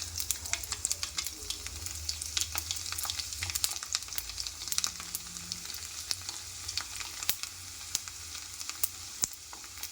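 Cumin and crushed garlic fry in a hot pan for sambar, giving a steady close sizzle and crackle with small spitting pops and occasional stirring scrapes throughout, with no voices.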